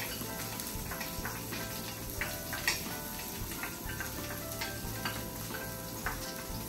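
Chopped garlic sizzles steadily in hot oil in a home kitchen pan, a continuous close crackle with faint ticking pops and occasional soft stirring scrapes throughout.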